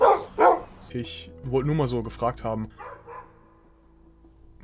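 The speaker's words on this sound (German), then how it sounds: "das war der Hund im Hintergarten von Indiversum Studios" A dog barks in the backyard of a studio, a couple of sharp, close barks at the start before a person starts talking over a low background hum.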